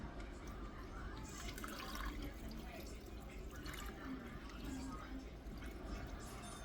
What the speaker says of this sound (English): I'm going to add a little bit more beef broth to this